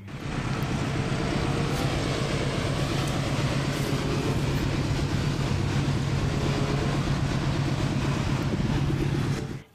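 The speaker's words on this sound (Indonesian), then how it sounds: "ini adalah gerbong kereta api lokomotif" A toy train locomotive runs with a loud, continuous rumbling clatter that holds steady throughout before cutting off at the end.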